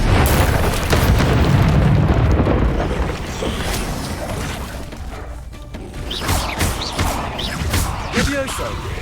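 Incendio fire spell blasts in Hogwarts Legacy, dense booming crashes and bursts of impact over a rumbling battle, with a voice calling out during the fight and sharper hits later on.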